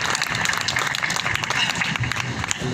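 An audience at a Hindi comic poetry gathering claps steadily and thickly, a brief dense wash of applause from a crowd.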